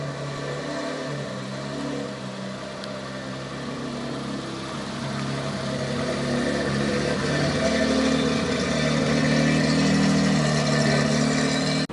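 A BMW E30 race car engine idles with a deep, raspy rumble through a stainless steel straight pipe exhaust, steady and close, its tone rising slightly partway through.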